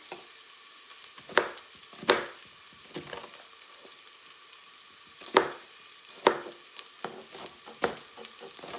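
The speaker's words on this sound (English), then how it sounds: "You guys hear it sizzling?" Steady frying sizzle of onion in a pan, with several sharp knife taps and clatters breaking through at irregular moments.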